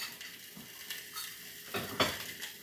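Kitchen dishes being put away after cooking salmon and bok choy: light clinks and scrapes of plates and utensils, ending in a sharper clatter near the close, with faint background sizzle and no talking.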